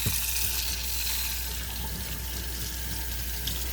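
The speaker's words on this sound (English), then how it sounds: "rinse them until they are clear, until the water runs clear" Tap water runs steadily onto three cans' worth of rinsed ingredients in a kitchen strainer, a continuous close hiss of flowing and splashing water with no talk over it.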